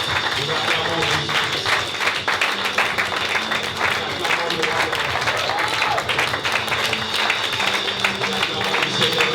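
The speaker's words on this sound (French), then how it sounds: "Nous acclamons Jésus." A church congregation applauds and cheers during a worship service, sustained dense clapping from a large crowd filling the room, with voices calling out over it.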